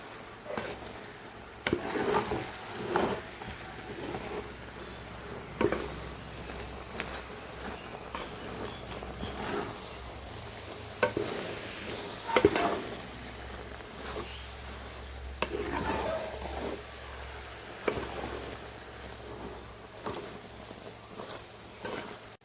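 Avial of vegetables, grated coconut and shallots being mixed in a pan, a steady scraping and rubbing with soft wooden knocks repeating through the clip at moderate, close range.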